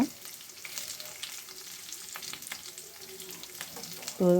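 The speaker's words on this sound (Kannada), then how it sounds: "ತುರಿದ ಹಸಿ ಶುಂಠಿ ಹಾಕಿದ್ದೇನೆ ಈಗ" Grated fresh ginger frying in a pan for sweetcorn uppittu, giving a steady soft sizzle with faint stirring scrapes throughout, ending in a brief louder tonal sound.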